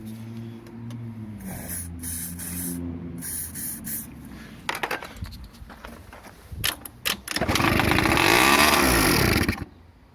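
A scooter engine sputters and catches after starter fluid is sprayed into its carburettor, starting with a low hum and clicks before bursting into a loud, rising buzz that holds for a couple of seconds and then cuts back.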